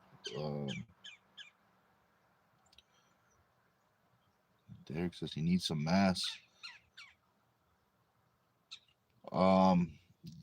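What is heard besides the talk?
bird squawking noise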